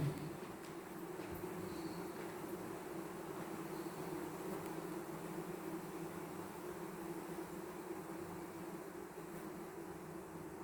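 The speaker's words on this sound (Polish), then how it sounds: "Ale słychać te pszczoły, osy." A steady, low drone of buzzing bees and wasps fills the air continuously at the ruined Potocki castle in Brody, moderately near, with no talking.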